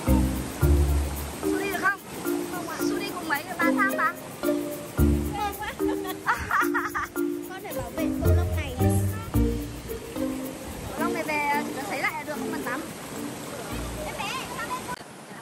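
Water rushes continuously at the foot of the first tier of Thác 9 tầng mây waterfall in Gia Lai, a steady broadband roar running beneath someone talking throughout.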